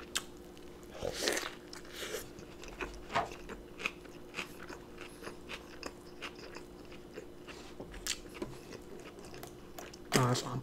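Close bites and crunchy chewing of a cheesy elk burger topped with nacho cheese, with moist smacking and small crackles in an uneven rhythm, and brief soft murmurs between mouthfuls.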